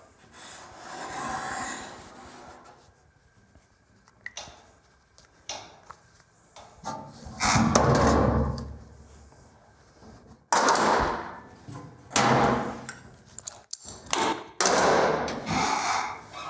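Pencil marking along the outside edge of a 1966 Ford F100 fender clamped on bed wood, scratchy rubbing strokes in short bursts with pauses, close and fairly loud, broken by a few knocks and handling noises.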